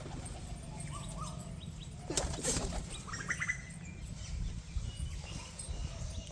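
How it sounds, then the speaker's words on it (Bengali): Pigeons let out of their coop outdoors: a burst of flapping wings as they take off, followed by scattered soft coos and more wingbeats against quiet ambient noise. "পায়রাগুলোর এখন ছেড়ে দিই বাইরে।"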